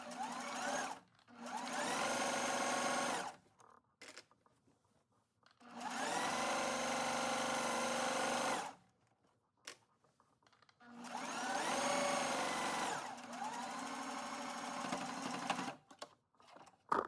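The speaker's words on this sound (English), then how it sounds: "you're just gonna sew all the way around" A sewing machine runs in three long bursts of steady, buzzing whir as it stitches around scrunchie fabric, each run stopping briefly with quiet pauses between; nearby and clear, no talking.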